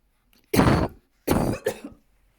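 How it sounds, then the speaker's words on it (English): Two bursts of harsh coughing from one person close by, a longer hack followed by a double cough, then quiet. "apologies for the huge coughing fit that you were just privy to"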